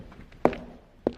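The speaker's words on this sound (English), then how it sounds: "Footsteps." Two footsteps land about half a second apart, soft muffled thuds on a floor indoors, close and distinct against a quiet background.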